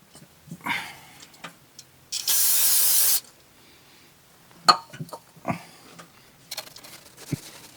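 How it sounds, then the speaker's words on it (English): Brake cleaner sprayed onto the engine oil pan of a 2015 Toyota RAV4, a single loud, steady hiss lasting about a second, set among scattered clicks and small handling noises of work on the car. "go over this one last time with some brake cleaner"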